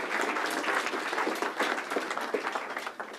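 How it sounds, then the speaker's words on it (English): An audience at a community workshop claps, a full, even burst of applause from many hands that continues steadily through the moment, moderately loud with a faint voice in the mix. "can we give a warm round of applause to..."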